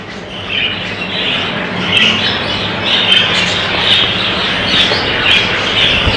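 Budgerigars in a breeding aviary, a dense, continuous chorus of squawks and chirps from many birds, loud and close with no pauses.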